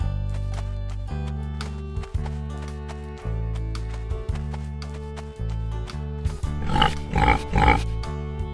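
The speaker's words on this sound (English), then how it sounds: "Pig." Pig grunts and oinks come in a short burst near the end, over steady background music.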